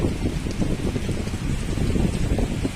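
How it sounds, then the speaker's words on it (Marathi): Steady heavy rain pours down in a dense, constant hiss with gusty wind rumbling underneath, close and loud throughout. "बघा किती जोरदार पाऊस पडतोय वारा पण सुटलाय"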